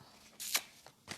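A deck of tarot cards is shuffled in two quick riffling bursts a moment apart, close but soft against a quiet room, with no one speaking.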